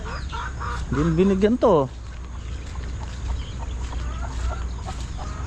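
A hen clucks with rising, bright calls in a short burst among newly hatched black and grey chicks. Steady low background hum, with people talking nearby.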